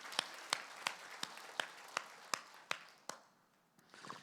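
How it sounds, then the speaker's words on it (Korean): A church congregation claps in a sparse, uneven rhythm, about ten distinct claps spread over four seconds at moderate distance, fading near the end. "박수로 영광."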